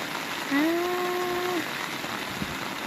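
Rain falls over rice paddies at transplanting time, a soft, steady wash of hiss all the way through. A brief tonal call rises above it near the start.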